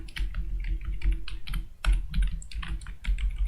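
Close, crisp clatter of a computer keyboard as JavaScript code is typed, quick irregular bursts of keystrokes with brief gaps between.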